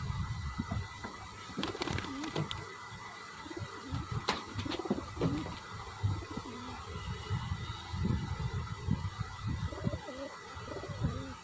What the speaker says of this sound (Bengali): পুরো একদম টপ ক্লাসের পায়রা আছে সে পায়রা আপনারা দেখেই বুঝতে পারছেন